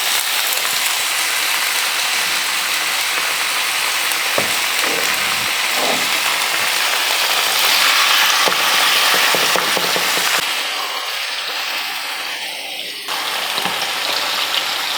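Unmarinated, unsalted chicken thighs fry in hot oil with a steady, dense crackling hiss that runs unbroken for the whole stretch, loud and close, with no one talking.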